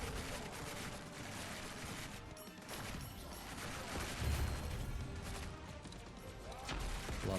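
Video-game combat with a thrown grenade and dense gunfire, a continuous rattle of rapid shots with a heavier thump partway through, steady and loud throughout.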